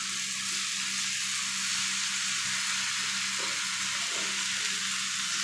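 Eggplant slices sizzle steadily in hot oil in a pan, a constant close frying hiss with no talk.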